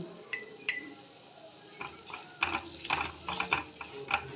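A metal utensil stirs and sautés rice with turmeric and salt in a pan, giving irregular clinks and scrapes that grow busier toward the end, close by and with no voices.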